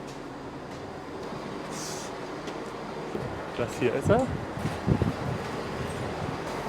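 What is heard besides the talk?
regional train arriving at a station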